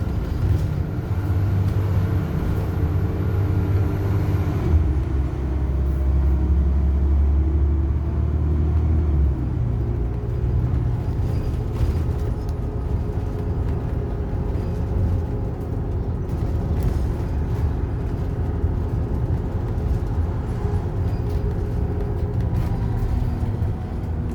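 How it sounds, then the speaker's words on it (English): An Alexander ALX400 double-decker bus with a Euro 2 engine drives steadily, its low rumbling drone continuous and close, with a slight change in the engine note early on. "Euro 2 engine ALX 400."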